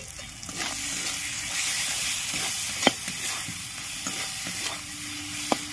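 Spices with turmeric and a pinch of sugar frying in oil in a pan for a Bangladeshi potato and egg curry, a steady close sizzle with occasional light spatula taps and scrapes.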